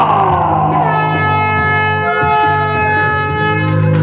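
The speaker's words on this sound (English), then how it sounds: "And the air horn" An air horn sounds a long, loud, continuous blast with a steady tone at a UK wrestling show, filling the arena alone with no talk over it.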